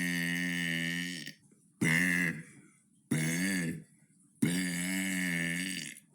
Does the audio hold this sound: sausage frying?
no